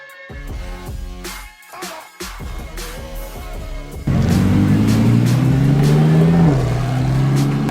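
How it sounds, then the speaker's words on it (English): A Lamborghini Huracan STO supercar at a car week event. Its engine is quiet and uneven at first, then breaks into a loud, sustained, close revving roar that holds steady to the end. "that was Wildcat in his Huracan STO"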